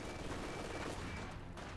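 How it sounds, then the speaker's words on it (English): Submachine gun fire in a Company of Heroes 2 battle, a faint, continuous rattle of automatic bursts heard from a distance, with no voices over it. "Couple of submachine guns there as well."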